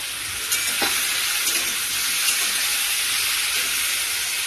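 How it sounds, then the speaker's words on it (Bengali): Pieces of ghati kochu (taro root) fry in a pan with a steady, dense sizzle that holds evenly throughout, broken by a few faint stirring knocks and no voices. "ভালো করে ভেজে নেবো কাটি কুচুর আলু"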